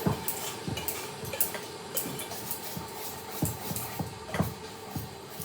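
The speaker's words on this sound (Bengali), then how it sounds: "ব্যাটারটা রেডি করছে ভালো করে ফেটিয়ে নিতে হবে" Gur pithe batter of milk and a little water being beaten by hand in a bowl, a steady run of close, rhythmic whisking taps and clinks with no talk.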